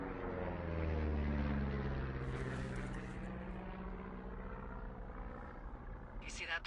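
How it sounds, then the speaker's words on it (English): A propeller airplane drones overhead in the video game Firewatch, a low steady hum that swells and slowly fades over a wilderness backdrop, with no speech. "You see that plane?"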